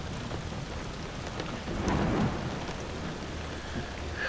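Steady rain pours down in a state forest at night, a dense continuous hiss with a brief swell of low rumble partway through, no voices.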